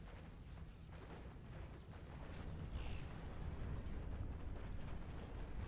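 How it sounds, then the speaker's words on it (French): A battle in the strategy video game Planetary Annihilation: Titans, with dense low rumbling blasts and continuous gunfire blending into one steady roar that grows slightly louder partway through. "ça tire dans tous les sens, c'est le bordel."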